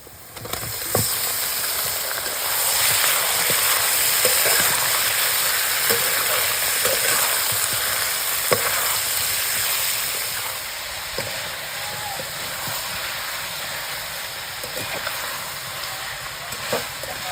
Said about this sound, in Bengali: পেঁয়াজের সাথে চিকেনটা ভেজে নিয়েছি এবার মশলা দিয়ে দেবো